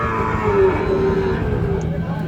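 A long, deep moo from a bull close by at a cattle market, droning over a busy crowd murmur of people talking.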